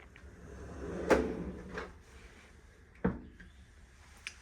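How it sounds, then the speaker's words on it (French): A large drawer in a classic IKEA storage unit slides open with a wooden rub and a couple of soft knocks, close by and fairly quiet, with no talking. "on a premier tiroir, donc c'est des meubles Ikea classiques avec grand rangement"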